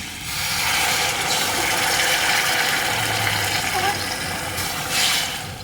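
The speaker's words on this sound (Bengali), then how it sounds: "এই বাটির মাপ করে আমি দু বাটি জল দিয়ে দেবো" Two bowls of water are poured into a hot pan holding raw potatoes and semolina, a loud, steady splashing rush that fills the pan and fades out at the end, with a short hiss near the close.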